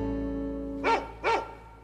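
A pet dog gives two short, clear barks about a third of a second apart over a soft, sustained musical tone.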